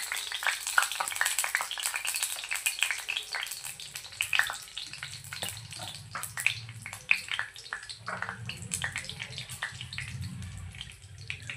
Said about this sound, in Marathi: तेल छान गरम झाले की यामध्ये आपण तेजपत्ता आणि खडे मसाले ॲड करूया।